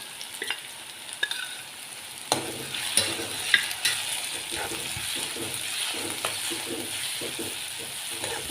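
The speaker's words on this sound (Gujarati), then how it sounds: "મિત્રો, આપણી હવે ડુંગળી અને લસણ સતળાઈ ગયા છે" Onion and green garlic sautéing with garlic chutney in a pan: a close sizzle runs under repeated scraping and clattering stirs, with a few sharper metallic knocks and no talking.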